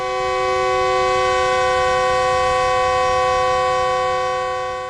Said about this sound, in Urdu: اسی اثناء میں ریل گاڑی آئی اور حضور سوار ہو گئے۔